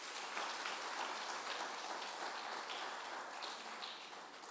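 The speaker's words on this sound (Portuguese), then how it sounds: "As palmas para Jesus." Church congregation clapping, a faint, steady wash of many hands heard from a distance, continuous and even throughout.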